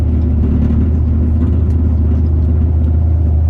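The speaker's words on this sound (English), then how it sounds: "exhaust hitting the underside of my truck" A truck's loose exhaust rattles against the underside of the vehicle, a loud, continuous low rumble and drone with a steady buzzing vibration, heard up close and alone.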